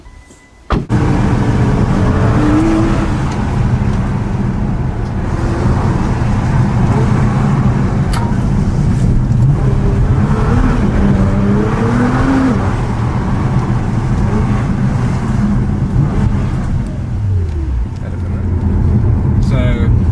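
A Nissan R35 GT-R Recaro Edition drives on the road from inside the cabin, a loud steady engine drone with rising and falling revs under continuous talking.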